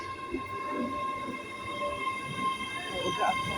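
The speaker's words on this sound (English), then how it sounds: "The train arriving at platform 4 is the 1103 service to Glasgow Central." A three-carriage Class 385 train rumbles in alongside a station platform with a low steady rolling noise, while a station announcement and other voices sound over it and a constant whine runs throughout.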